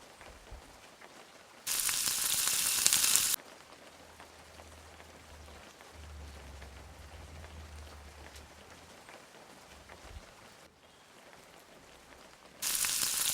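Pieces of surmai fish sizzle in hot oil as a second batch goes into the pan, a soft, steady crackling hiss with two brief louder bursts of spitting oil.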